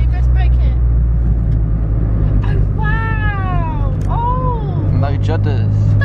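A Citroen C1 car rolling along and braking smoothly, a low steady engine and road rumble running throughout, with people talking and laughing inside the cabin over the top.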